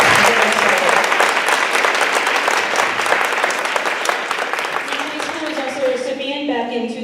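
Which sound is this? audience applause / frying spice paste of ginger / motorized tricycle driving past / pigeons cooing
audience applause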